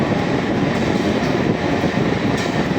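The Amghata–Krishnanagar inaugural special train runs along the line, a loud continuous rumble of wheels and carriages heard from on board, steady and unbroken.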